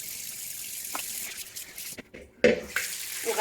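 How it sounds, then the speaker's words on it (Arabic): Sea snails are rinsed under running tap water in a kitchen sink, with a steady hiss of flow broken by splashes and a louder gush near the end. "وغادي نعاود نشلل الماء"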